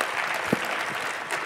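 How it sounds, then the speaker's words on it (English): Audience applause at a panel discussion on supply chain sustainability, a brief, fairly faint patter of clapping that fades quickly. "I think that almost needs an applause right there, Sophie, for that."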